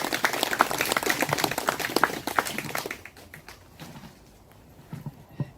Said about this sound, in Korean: 우리 모두에게 함께해 주셔서 감사하다고 큰 박수 주시기 바랍니다